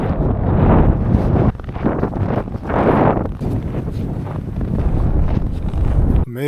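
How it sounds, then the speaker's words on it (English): Strong wind buffets the microphone outdoors on the Mongolian steppe near Deluun Boldog, loud roaring gusts that surge and ease in waves without speech. "Got windy."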